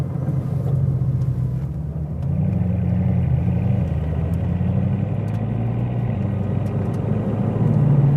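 A Bugatti Chiron drives along, its engine a loud, continuous low rumble heard from inside, rising and easing slightly in pitch as it changes speed.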